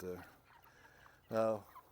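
Backyard meat chickens give two short clucking calls, close and moderately loud, separated by a quiet pause.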